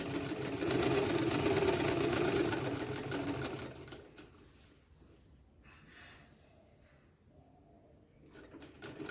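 Sewing machine stitching the U-shaped crotch seam of a gathered tulip pant, a loud steady run for about four seconds, then quieter intermittent stitching bursts with pauses.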